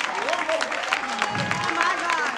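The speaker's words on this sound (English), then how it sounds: "I need you to clap your hands just one more good time" Church congregation clapping hands during a gospel service, a steady dense patter of claps mixed with singing voices and crowd noise, moderately loud and continuous.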